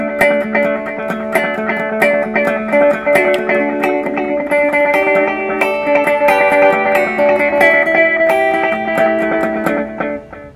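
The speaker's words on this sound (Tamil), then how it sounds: "ஸோ அதான் டிலே." An electric guitar is played through a delay effect, each note echoing again and again into a dense, sustained wash of repeats, loud and close, with no talking over it.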